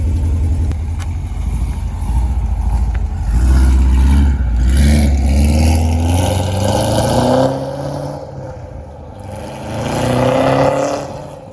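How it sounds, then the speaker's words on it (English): A Corvette engine revs loudly close by, its throaty note rising and falling through several surging pulls over a steady rumble, with no talking. "we've already revved it 2 times tonight"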